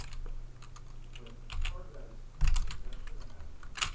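Rapid clacking of a loud computer keyboard, keys struck in quick irregular bursts close to the microphone, with a heavier cluster of strikes partway through.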